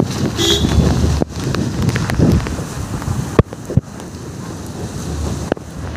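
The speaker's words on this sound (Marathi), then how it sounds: "हे बघा पाऊस खूपच जोरात आहे" Loud, steady broadband wash of heavy rain on the Konkan coast near Kunkeshwar, with rough wind buffeting on the microphone, a few sharp knocks breaking through, no voices.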